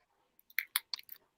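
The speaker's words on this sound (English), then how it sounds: "Who over there snacking?" Close, crunchy chewing of a snack in quick, uneven bites that grow louder over a second or so, with a moment of quiet before it.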